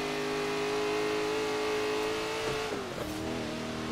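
A car engine in Forza Horizon 3 holds a steady high rev, then drops and climbs again through a gear change, loud and close, with a faint tire squeal near the end.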